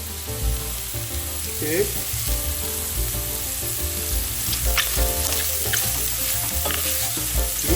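Mushrooms sizzle and fry steadily in hot oil in a home kitchen, a close, continuous crackle with occasional stirring clatter and background music, with a brief spoken word near the start.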